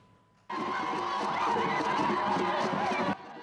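A large outdoor crowd in Bouaké, Côte d'Ivoire, welcoming the Prime Minister: dense, loud mass of cheering, shouting and whooping voices that bursts in abruptly and holds steady for about three seconds before cutting off.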